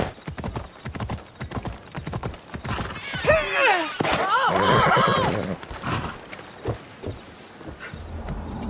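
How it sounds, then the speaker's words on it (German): Rhythmic hoofbeats of a horse in Assassin's Creed Odyssey clop steadily, broken midway by a loud horse whinny, with game sound effects around them. "Mein Pferd hat mich jetzt auch mal eingeholt."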